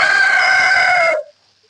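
A single rooster crows loud and close on a chicken farm, one long sustained call that cuts off sharply near the end, leaving near silence.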